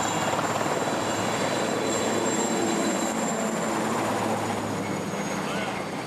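Loud, steady roar and whine of a helicopter engine taking off for a special forces demonstration on 14 July, heard continuously from inside the cabin, with voices faintly present beneath the noise.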